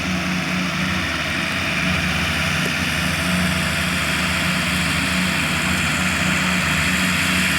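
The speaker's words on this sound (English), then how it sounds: "The noise that you hear is a tractor mowing the lawn." A tractor mowing a lawn on the parade ground at West Point drones steadily and fairly loud, a continuous low engine hum with no break throughout.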